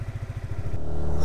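Yamaha XSR125 motorcycle riding through a town, its small single-cylinder engine throbbing in a steady rapid pulse that smooths into a continuous louder drone with rushing wind by the end.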